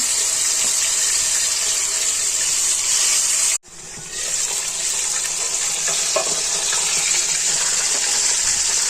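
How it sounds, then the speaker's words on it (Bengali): Tilapia fish frying in hot oil, added to the pan one by one: a loud, continuous hissing sizzle that cuts out abruptly for a moment, then resumes at full strength. "তেলাপিয়া মাছগুলো এপিট ওপিট করে ভেজে নিলাম"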